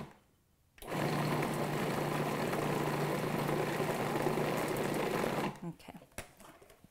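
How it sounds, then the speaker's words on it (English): A kitchen blender whirs through pumpkin cheesecake ingredients in a single loud, steady burst of several seconds that starts and stops abruptly, followed by faint handling noises. "we'll pulse that together and make sure it's all well blended"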